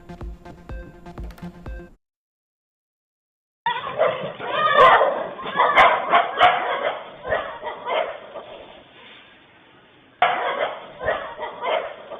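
Stray dogs bark and yelp in CCTV footage of them chasing a boy through a Kumbakonam street, with sharp barks in bursts over a busy outdoor background after a short music intro and a silent gap.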